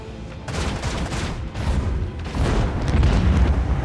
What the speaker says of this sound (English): The explosion nearly killed his buddy as well.